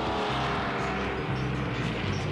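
Race car engine roaring steadily and loudly at a driving school track, a continuous close drone with no pauses or voices.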